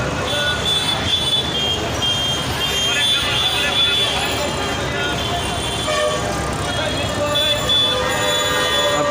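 Vehicles pass in front of the National Press Club in Dhaka toward the Kakrail intersection, with a constant roar of engines and repeated horn toots, loud and close, while a voice talks over the traffic.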